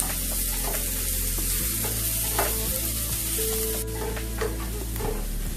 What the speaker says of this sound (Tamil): இப்போ வெங்காயம் போட்டுக்கிறேன். நல்லா வதக்கிக்கலாம்.